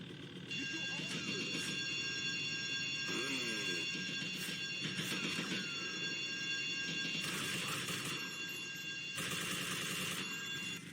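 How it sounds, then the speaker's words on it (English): An alarm blares in the video game GTA Vice City, a steady electronic ringing tone that runs nearly the whole time, with someone talking over it and gunfire or action sounds mixed in. "when you get spotted, there's actually an alarm that plays"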